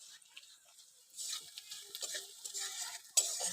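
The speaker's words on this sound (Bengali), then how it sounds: "পেঁয়াজটা ভেজেছি লাল লাল করে দেখো" Onions and chillies frying in a pan, a quiet start giving way to a steady crackling sizzle with soft stirring scrapes, close and moderately faint.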